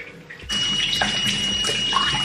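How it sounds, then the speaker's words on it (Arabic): Water running from a sink tap during face washing, a sudden steady close gush that starts partway through and continues with faint splashing and bumps, no talking. "أول شي نغسل وجهنا"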